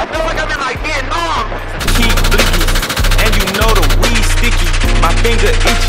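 Machine gun fire from a helicopter door gunner: long, dense bursts of rapid automatic shots, loud and close, with brief pauses between volleys and a deep low rumble beneath.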